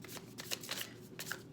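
Decks of playing cards are riffled and shuffled at close range in quick, crisp bursts, with no talking over the papery flutter.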